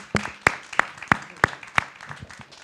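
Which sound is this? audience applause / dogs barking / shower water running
audience applause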